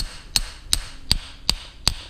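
A punch is tapped with a hammer to seat a bushing into a Crankbrothers Mallet bike pedal, giving five sharp, evenly spaced metallic taps about every 0.4 seconds, close and clear, with no talking.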